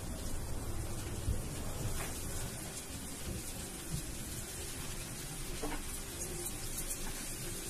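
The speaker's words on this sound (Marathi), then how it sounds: "आता गरम तेलामध्ये हे सर्व पीस छान फ्राय करून घेऊया" Pieces of karli fish, coated in roe, frying in hot oil for a Malvani-style fish fry, giving a steady hissing sizzle with scattered pops and crackles that stays even throughout.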